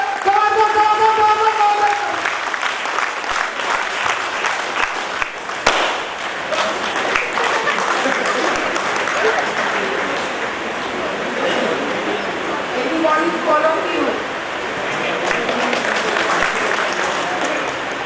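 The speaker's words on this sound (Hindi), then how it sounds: "जबरदस्त जबरदस्त ताली" Audience applause fills a healthy living seminar hall, dense and steady clapping from a large crowd lasting throughout, with a voice calling out briefly near the start.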